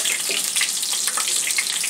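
Prawns frying in oil in a pan over a medium-low gas flame give a steady, close hiss of high crackling sizzle with small pops throughout.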